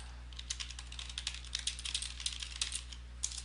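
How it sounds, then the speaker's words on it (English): Rapid keystrokes on a computer keyboard while a message is typed, an irregular run of close, crisp clicks over a steady low hum, with no talking. "I'm going to type a message."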